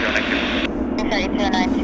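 A fixed-wing airliner operating flight 978 to Cabo San Lucas roars steadily at Vancouver International Airport, loud and continuous, with people talking over it close by.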